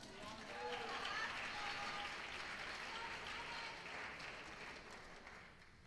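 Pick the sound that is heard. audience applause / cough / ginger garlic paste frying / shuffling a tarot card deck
audience applause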